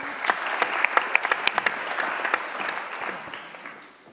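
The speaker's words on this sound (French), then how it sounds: "On peut l'applaudir." A room full of people at a conference applauds warmly, a burst of clapping with a few sharp individual claps that gradually tapers off.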